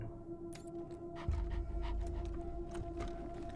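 A dog pants in rapid, rhythmic breaths in a video game setting, muffled as if heard through steel walls, over a steady low hum.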